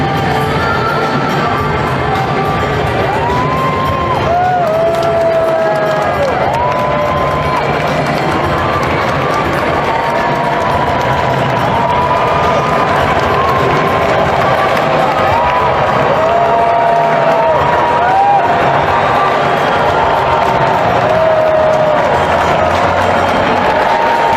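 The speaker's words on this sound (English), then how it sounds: "here was the crowd's reaction when he entered Arthur Ashe Stadium" Large crowd at Arthur Ashe Stadium during the US Open in New York roaring and cheering steadily and loudly throughout, with a constant dense wash of voices, whistles and shouts.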